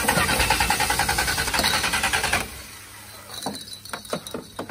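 A Jeep Scrambler engine runs loud and steady, then cuts out abruptly, leaving a quieter stretch with scattered clicks and knocks close by.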